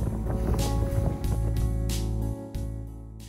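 A sailboat motor sailing on the sea off the south coast, with a steady low engine drone under wind buffeting and intermittent water splashes, close and fairly loud throughout.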